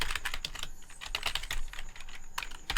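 Rapid typing on a computer keyboard while entering JavaScript code, a close, steady clatter of keystrokes with brief pauses and no talk.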